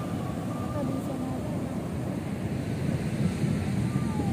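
Big ocean waves roll in at Cemara beach in Cipatujah with a constant, heavy broadband roar, mixed with wind buffeting the microphone and faint voices nearby.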